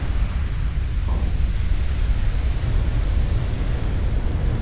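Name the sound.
battleship explosion in video game Ultimate Admiral: Dreadnoughts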